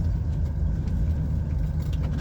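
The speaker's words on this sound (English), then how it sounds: "Just gonna let this car come through" A car passes on a tight, narrow B road in Cumbria, heard as a close, low engine rumble steady over a couple of seconds from inside a waiting lorry cab.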